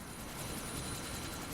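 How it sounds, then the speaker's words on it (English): A helicopter in a shooter video game, about to take off, gives off a steady loud rotor and engine roar with no break. "That chopper's about to take off."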